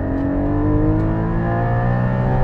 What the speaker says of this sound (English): I'm just experiencing full induction noise